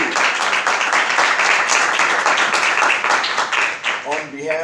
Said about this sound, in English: Let's give Dr. Kirsten a round of applause.